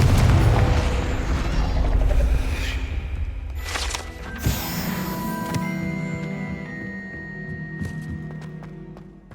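Confringo fire spell explosion in the Hogwarts Legacy video game: a heavy booming blast, followed by a second sharp burst and a long rumbling, crackling decay with ringing tones.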